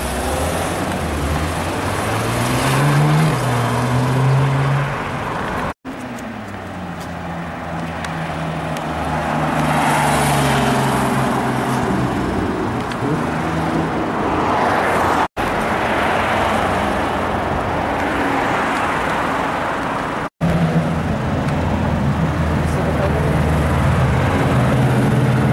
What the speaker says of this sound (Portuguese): Um Porsche conversível.